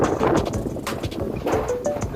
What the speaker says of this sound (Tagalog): Ganyan kalakas ng hangin dito sa amin.